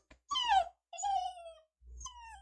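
A dog whines and cries in three drawn-out, high, wavering calls separated by short pauses, close and fairly loud with no talking over them.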